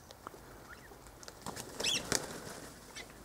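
A green parakeet flaps its wings in a short, fluttering burst as it flies off, close and fairly faint against a quiet outdoor background.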